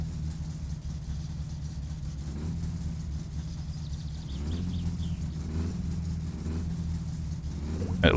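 In the My Summer Car video game, a car engine runs at a steady low idle, a close, even rumble with faint whirring overtones, ending in a brief rising rev. No one speaks.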